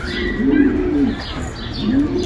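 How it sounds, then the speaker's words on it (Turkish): Çağçili pigeons with their young coo in soft, low rolling phrases, close and repeated several times over faint chirps and room noise. "Burada da bir tane çağçili yavrumuz var."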